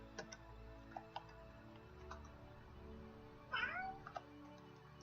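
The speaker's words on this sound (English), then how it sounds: "It's my cat, everybody." A pet cat gives one short, faint meow at a distance. Sparse ticking clicks and a low hum fill the rest of the quiet room.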